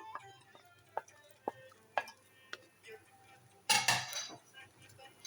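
Vegetables are stirred slowly in a pan over low heat, with a spoon tapping the pan in sharp, regular clinks about every half second, then a brief louder burst of scraping and sizzle, all close and quiet.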